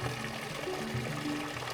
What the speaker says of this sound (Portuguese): a fonte, que continua jorrando água limpa aqui para a comunidade